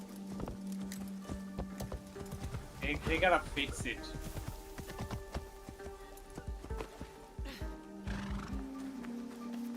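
Hooves clop in a steady rhythm and a horse whinnies in the Assassin's Creed Shadows video game, with someone talking over part of it.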